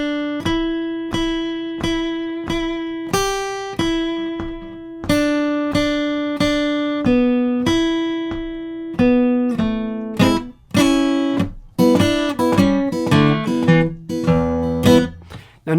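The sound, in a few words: guitar playing blues solo phrase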